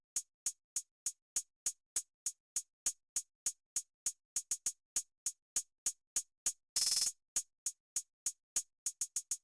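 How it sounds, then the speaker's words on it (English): A West Coast hip-hop hi-hat pattern playing solo: crisp, rapid ticks in a steady stream with quick rolls, broken once by a brief sustained open hiss. "Then I came up with this hi-hat pattern."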